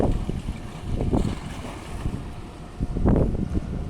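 A boat motors across open water near the Bataan pier, its low engine rumble steady beneath wind buffeting the microphone and splashing waves, with no talking.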